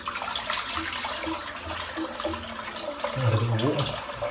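A bathroom sink full of water and hair from a head shave drains out with a continuous rushing wash of water, deepening into louder throaty gurgles toward the end.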